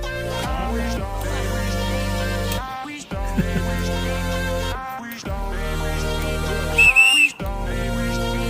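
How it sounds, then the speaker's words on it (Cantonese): A whistle is blown to start a group hike through the Hong Kong countryside around Lai Tung, Hung Fa Ling and Lin Ma Hang, sounding as long, loud, sustained tonal blasts separated by brief gaps. "等你吹雞啊！"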